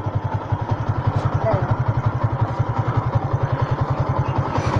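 A Yamaha motorcycle engine idles nearby with a rapid, steady pulsing thump and some light clatter. A voice talks over it.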